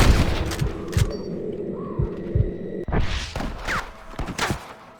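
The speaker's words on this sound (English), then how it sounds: "I can hear more gunshots" Bursts of gunfire in Red Dead Redemption crack in quick succession over a rumbling background, some shots close and sharp, others more distant, with a brief whistling tone.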